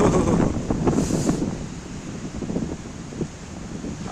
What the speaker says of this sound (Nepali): हावा हुरी